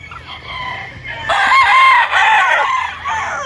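A Hatch gamefowl rooster crows once loudly and close, its long call rising and breaking into segments after a brief quieter stretch of background noise.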